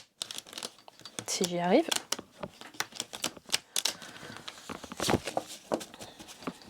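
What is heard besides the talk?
shuffling a deck of cards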